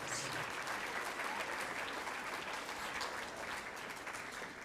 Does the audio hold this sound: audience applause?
yes